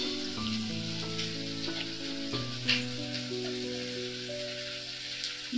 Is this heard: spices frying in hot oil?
yes